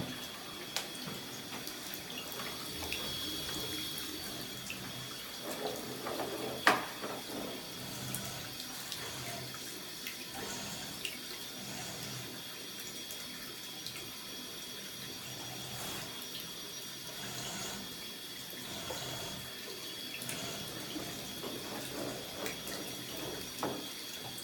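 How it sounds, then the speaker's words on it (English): Bidet in an inspected rental bathroom runs water in a steady, continuous stream, with a faint metallic click partway through; no voices. "Will you turn the bidet off now?"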